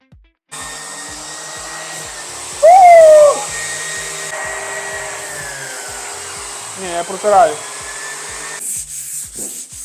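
A vacuum cleaner hums steadily at close range in a workshop where chipboard is being sanded and prepared for painting, starting abruptly and cutting off near the end, with brief squeaks and rubbing over it.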